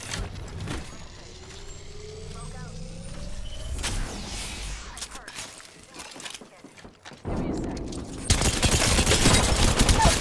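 Gunfire rings out in Apex Legends: scattered sharp bursts of shots, then a denser, louder burst of firing near the end, mixed with other game noise and some voices.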